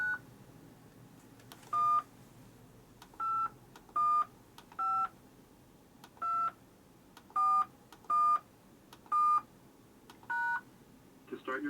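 A series of telephone keypad tones entering a PIN, about ten short evenly spaced beeps, with a brief pause partway through, over a low background hiss.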